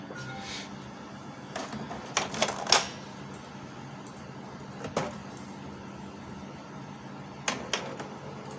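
A Canon IP2770 inkjet printer printing a table gives off scattered mechanical clicks and short whirring feed sounds, a few quick bursts spread over a quiet room background.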